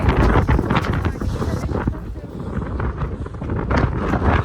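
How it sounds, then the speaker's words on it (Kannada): Strong, cold wind roars and buffets the microphone continuously at a snowy hillside beside water, a loud rumbling gust that never lets up. "ಎಷ್ಟು ಗಾಳಿ ಅಂತ ಹೇಳಿದ್ರೆ"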